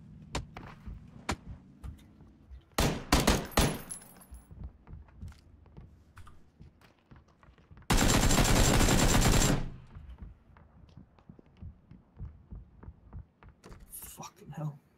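Gunfire from a shotgun in the battle royale game PUBG: a short cluster of loud shots, then a sustained dense burst a few seconds later, with quieter clicks and voices talking between them.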